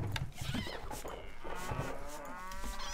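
Cattle moo in the Stronghold HD strategy game, a couple of drawn-out bovine calls over a faint farm background, moderately loud and close, with no speech.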